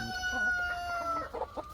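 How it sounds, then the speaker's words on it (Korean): Two native hens fighting on a farm, giving repeated sharp squawks and clucks with a strained crowing tone, close and fairly loud, with a brief sustained cry before choppy bursts. "이거 둘이 암탉끼리 싸우고 있습니다"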